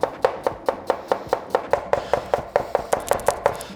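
A knife slicing through a halved, peeled onion for pho broth, steady rhythmic chops about five per second, close and crisp, with no talking.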